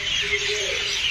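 Myna birds in a tree chirp steadily and close by, a bright continuous twittering with a lower tonal call running beneath it for about a second.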